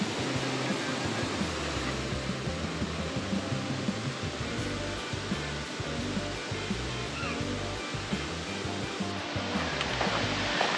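A waterfall in Ratchaburi pours down over large boulders on a rocky mountain trail, a loud, dense, unbroken roar of rushing water close by, with no voices.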